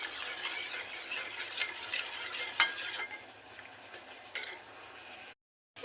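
A spoon stirs milk gradually into a bottle gourd curry mixture, giving a steady close scraping and swishing with light clinks, fading out near the end.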